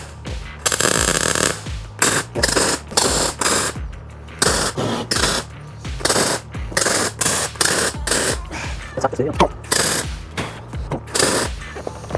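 Tack welding on a car rim for a Hackney taxi, a series of short harsh buzzing welder bursts separated by brief pauses, close and loud, with no talking.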